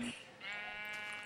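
A sheep bleats in Minecraft, Xbox 360 edition: a single drawn-out, wavering game bleat, close and clear, with no one talking over it.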